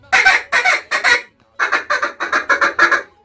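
A duck call blown with heavy back pressure gives a run of nasal, honking quacks: three in a row, a short pause, then a faster string of about eight, loud and close.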